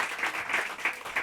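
Brief applause in a casual podcast setting, a short patter of clapping with irregular pulses, fairly close and moderately loud, lasting just over a second.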